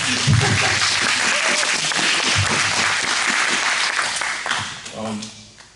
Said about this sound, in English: you want to clap for Ashlyn